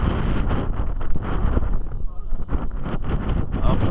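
Strong wind buffets the microphone outdoors during a kite-flying session, a dense, continuous roar with gusty swells and no breaks.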